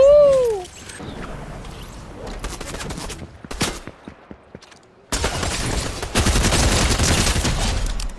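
Pistol shots crack out in Fortnite amid other gunfire, scattered single reports that give way to a loud, dense burst of rapid shooting in the second half, with a brief bird-like whistle at the start.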